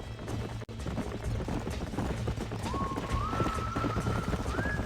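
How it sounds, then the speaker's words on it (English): Horses trotting in the video game Red Dead Redemption, a steady rhythmic clip-clop of hooves close by over a continuous background rumble, with a brief rising tonal sound partway through. "These are fine horses."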